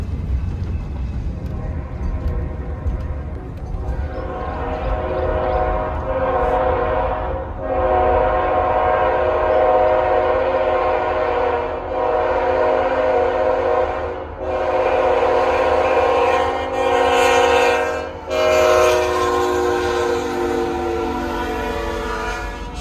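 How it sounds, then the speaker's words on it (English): A southbound CPKC freight train passes loudly and close, its horn sounding repeatedly in long blasts over the steady rumble of rolling cars. "That southbound would end up being Daily Manifest 267."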